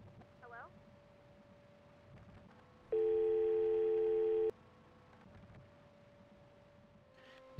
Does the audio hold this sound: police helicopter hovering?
no